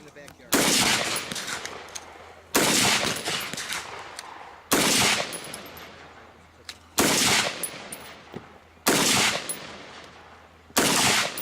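An AR15 pistol fires at backyard targets: six loud, close shots spaced about two seconds apart, each with a long echoing tail.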